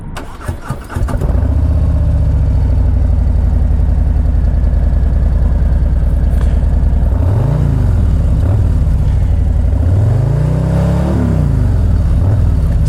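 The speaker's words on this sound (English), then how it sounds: "So we'll flip our kill switch to the ignite position and then hit the starter." 2024 Harley-Davidson Low Rider ST motorcycle with stock pipes, a short starter crank then the engine catches into a loud, close, steady low rumbling idle with a couple of throttle blips, no talk.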